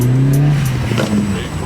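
A Vauxhall Corsa fitted with a Ramair performance air filter revs its engine, a steady close drone whose pitch climbs and settles over a couple of seconds, with faint voices in the background.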